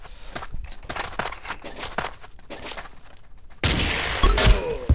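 Gunshots in the blocky first-person shooter Ace of Spades, a rifle match: scattered sharp cracks amid game noise, then a dense, loud burst of firing toward the end.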